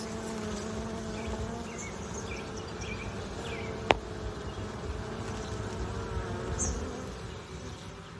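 A dense, steady hum of many honeybees buzzing close by at an open hive during inspection, constant and low, with a brief sharp click partway through and no voices.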